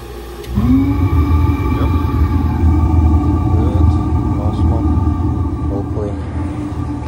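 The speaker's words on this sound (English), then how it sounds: "you can see the burner starting by itself to keep the pressure 20 bars" A steam cleaner's burner ignites on its own to hold 20 bar of pressure, a low steady roar that starts abruptly after a brief pause and then runs continuously with a faint whine above it.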